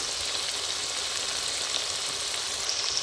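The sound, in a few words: frying spice paste in oil with Kashmiri chili powder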